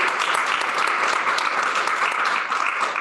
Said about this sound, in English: Let's give a big round of applause for all of the 8th graders.